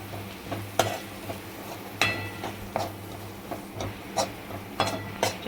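A spoon stirs red chili powder and coriander-cumin powder in a pan for Kathiyawadi vagharelo rotlo, making repeated scraping strokes and sharp taps against the metal over a soft background sizzle.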